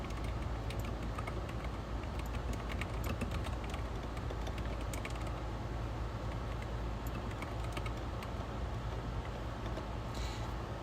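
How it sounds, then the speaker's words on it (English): A computer keyboard clatters in steady, rapid keystrokes while Java code is entered, a continuous run of light close clicks over a faint background hum. "So just follow along with what I type."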